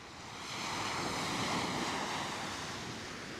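Ocean waves wash steadily onto Coney Island beach in New York City at the end of summer, a broad continuous surf roar with some wind, swelling slightly and holding, with no voices.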